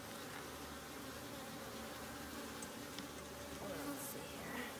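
Honey bees buzz steadily during a hive inspection. The drone is faint but continuous and close, with a few light ticks and rustles over it.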